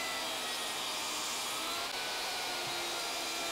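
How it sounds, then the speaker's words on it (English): A DeWalt DWE7491RS table saw runs with a loud steady whine while trimming the edges of a wooden fence assembly for a crosscut sled, a dense continuous roar with no talking. "Next, I'll grab the fence assembly made earlier and clean up the edges on the table saw."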